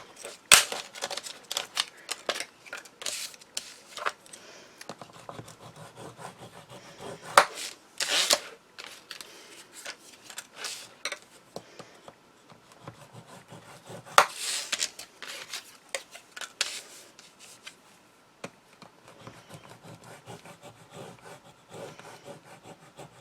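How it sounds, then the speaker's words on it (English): Paper structure strips are scored on a scoring board in quick, dry scraping and rubbing strokes, repeated in bursts with short pauses, close and fairly quiet with no voices. "you need your scoring board, and all these structure strips need to be scored at 1/2 inch"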